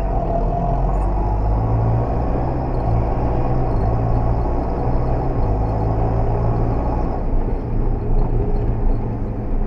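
John Deere 6400 tractor engine hauling corn, a loud continuous low roar with steady rumbling throughout, heard up close without talk.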